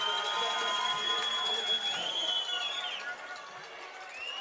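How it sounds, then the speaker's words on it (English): Junior Warriors youth football crowd at an under-14 championship game, a steady wash of distant cheering and noise spread across the whole stretch, with a whistle-like tone sliding through partway and voices talking over it. "Crowd's getting a little raucous here, cheering on their junior Warriors"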